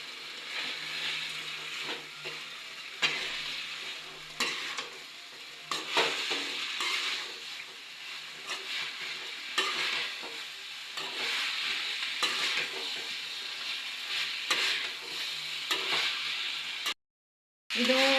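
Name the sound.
gobi manchurian stir-frying in sauce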